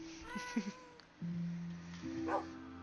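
Two new pet dogs bark and yip in a Steampunk Age video game. A few short, light yelps come near the start and another near the end, over a steady hum of in-game tones.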